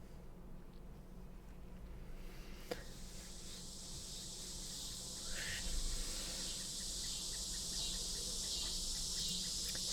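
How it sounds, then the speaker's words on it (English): Cicadas droning in a forest scene of the video game Kentucky Route Zero, a dense high buzzing that swells and thickens partway through and holds steady over faint low ambience, with a brief click early on. "Cicadas, I know that sound."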